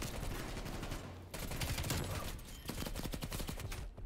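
Rapid automatic gunfire rattles in dense bursts during a Call of Duty Cold War match, loud and close, with a brief pause before the shooting resumes and trails off into separate shots.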